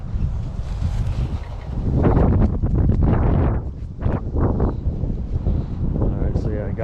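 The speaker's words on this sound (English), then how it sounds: "can hear that wind picking up" Wind gusts across an open farm field during a metal-detecting hunt in November, a steady broadband rush that swells louder midway and buffets the microphone, with a person talking over it.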